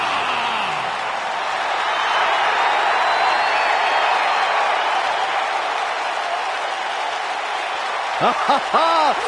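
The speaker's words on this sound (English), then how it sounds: "Clap for your tag champs and feel the power." A large arena crowd applauds and cheers steadily in the WWE 2K19 wrestling game during a tag team entrance, a dense continuous wash of clapping, and a brief voice comes in near the end.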